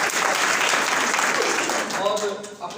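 Audience applause at a one-day Urdu seminar on modern technology, a dense sustained wash of clapping for about two seconds that thins out as a voice begins speaking over it near the end.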